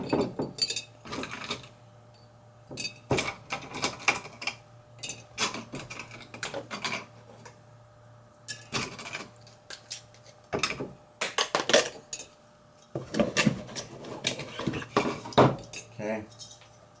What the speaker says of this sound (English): You chop it up.